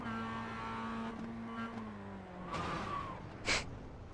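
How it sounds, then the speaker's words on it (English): Race car in a sim racing game holding a steady engine drone that eases as it slows into a corner, with a brief tyre screech near the end and no talking. "Listen to the braking."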